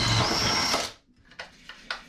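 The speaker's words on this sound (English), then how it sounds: "I'm tapping these holes out to 1032 for some slightly stronger screws" A power drill driving a tap to cut 10-32 threads into screw holes in a wooden boat under restoration, running in a steady continuous whir that stops, followed by a few short bursts.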